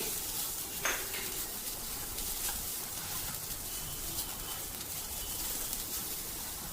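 Grated coconut roasting in a hot pan for a coastal Kundapura chicken curry, a steady soft sizzle with occasional scraping stirs and a light clink, close and without talk.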